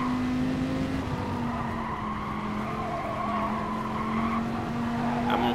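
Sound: race car downshifting into fourth gear in a racing video game

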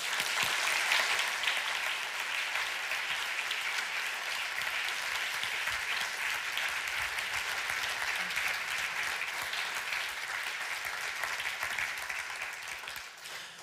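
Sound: audience applause welcoming the DFG president on stage

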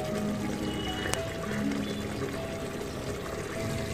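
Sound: mutton salan gravy boiling in a pot

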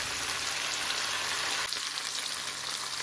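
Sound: cinnamon and black cardamom frying in oil

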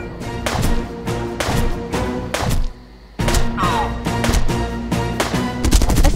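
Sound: gunfire in video game Jagged Alliance: Back in Action

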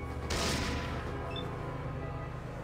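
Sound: 10mm pistol gunfire in the video game Fallout

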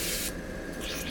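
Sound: airbrush spraying paint

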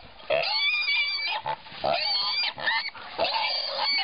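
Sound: pig squealing while caught by a dog

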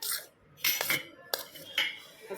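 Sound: spoon stirring buttermilk spice mix

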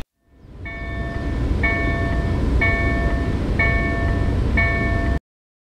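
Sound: Sounder commuter train in Edmonds, Washington

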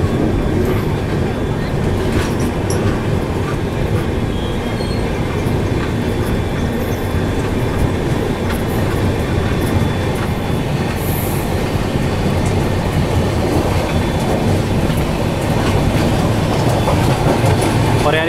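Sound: double decker train departing station, Indian Railways

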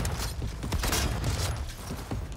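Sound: shotgun reloading in video game Cyberpunk 2077

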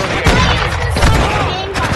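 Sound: gunfire in a video game

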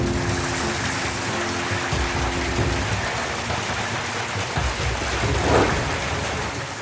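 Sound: rain with hail and strong wind

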